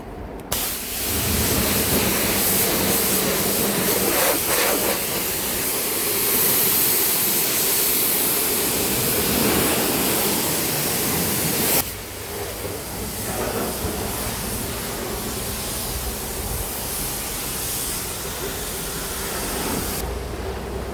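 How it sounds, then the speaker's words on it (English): A loud, steady hiss of water spraying hard against a car, continuous for the whole stretch with a brief shift in pitch midway. "I'm just gonna spray it off and then dry it."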